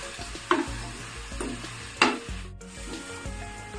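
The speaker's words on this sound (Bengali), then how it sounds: "এবার আমি এর মধ্যে প্রথমে আমের ঝুড়িগুলো দিয়ে দেব তেলটা মাখিয়ে নিচ্ছি" Shredded raw green mango being tossed and stirred in hot oil in a pan for pickle: soft sizzling with periodic scraping strokes of a spatula, a couple of sharper knocks, close up and without talk.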